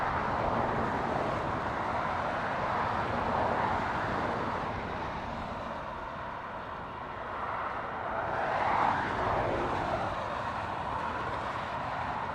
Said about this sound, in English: A380 landing.